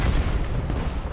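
A grenade blast in the Men of War 2 multiplayer battle merges into a dense, continuous roar of gunfire and explosions, loud and rumbling throughout without a break.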